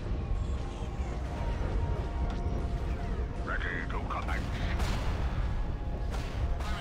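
Ships fire on a target in the space strategy game Empire at War: Awakening of the Rebellion 2.9, a continuous low rumble of booming weapon fire with faint whistling tones over it, at a moderate level.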